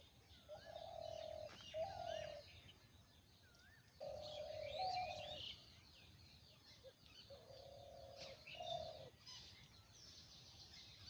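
Repeated dove-like coos in short low phrases, several calls with brief pauses between them, heard close against a quiet outdoor background with faint chirps of other birds.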